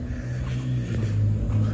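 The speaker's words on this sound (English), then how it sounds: "Sorry if you can hear a car outside." A car passing outside, heard from indoors as a steady low engine rumble that swells slightly and holds at moderate level throughout, with no talk over it.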